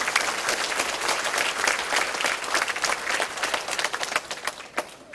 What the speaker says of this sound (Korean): 우리 스스로 한번 자축하는 의미에서 큰 박수 한번 보내주시기 바랍니다